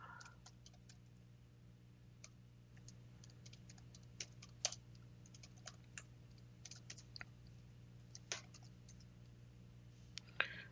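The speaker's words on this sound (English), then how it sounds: "I'm just typing Marine Drive." Computer keyboard typing during online entry of an address for an airport RT-PCR test booking, irregular light key clicks that come in short bursts, close but quiet, over a steady low electrical hum.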